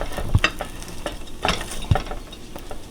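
A sandwich toasts in a pan just after being flipped, giving a soft steady sizzle with a few sharp scrapes and taps of a utensil spaced through it, close and fairly quiet.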